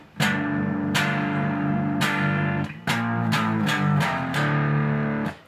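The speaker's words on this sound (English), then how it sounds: "And you can hear that it does have a bit of distortion." A distorted electric guitar plays through a small DIY battery-powered chip amplifier, with about eight loud, gritty strummed chords ringing out in an uneven rhythm and sustaining between hits.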